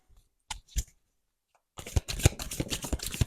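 Blue oracle cards are shuffled by hand in two brief riffles, a pause, then a longer run of quick, close, papery flicks.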